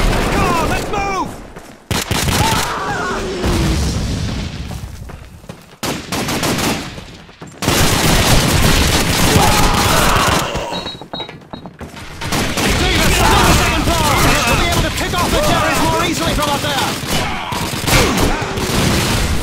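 Sustained automatic gunfire in a Call of Duty 2 battle, loud dense bursts with explosions, mixed with shouted talk over the fighting.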